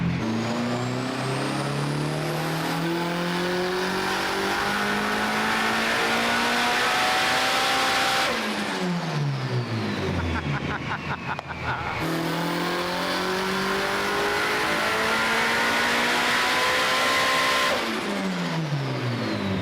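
A Nissan 300ZX engine revs hard to high RPM through a loud screamer-pipe exhaust, climbing twice in long sweeping pulls that each scream upward for several seconds before dropping back, close and loud with no talk.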